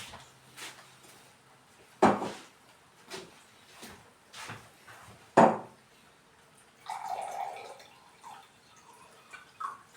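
A few clicks and light clatters of a kettle being handled, followed by a short stream of water pouring.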